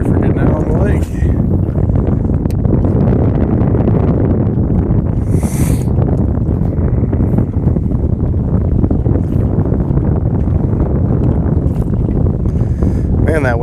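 Strong wind blowing across an open lake while out jig fishing, a steady loud roar buffeting the microphone throughout, with no pause.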